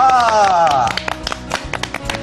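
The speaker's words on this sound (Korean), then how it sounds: "오늘 박정호 강사님이 전하는 우리 아이 미래 인재로 키우기 박수로 청해 듣겠습니다." A small audience claps to welcome a lecturer onto a parenting talk show. A voice speaks first, then scattered, uneven claps break out close by in a short, thin burst.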